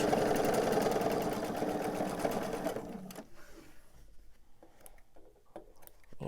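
A sewing machine runs in one fast, steady burst while stitching a quilt star block seam, then stops after about three seconds, leaving soft handling noises.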